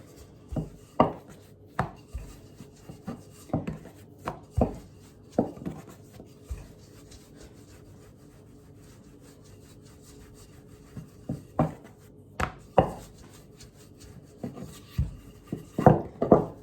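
Paratha dough being rolled out and smoothed on a wooden surface, with irregular soft knocks, rubs and rolling-pin thuds in clusters, near and fairly loud with a quiet pause midway.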